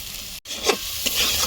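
Chilli and cumin powder spices with salt frying in a pan, a steady soft sizzle with a couple of brief stirring scrapes and a short dropout partway through, close and alone without talk.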